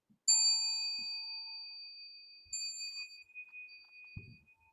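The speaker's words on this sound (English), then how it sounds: "those two bells at the end are typically on the last sentence" Two meditation bells ring at the close of a Zen chant, struck a couple of seconds apart. Each gives a clear tone with a long, shimmering decay in a quiet room.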